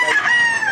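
Brief, loud, close crow from a ten-month-old fighting rooster at a gamecock market in Lipa, Batangas, a single strained cock-a-doodle note cut short.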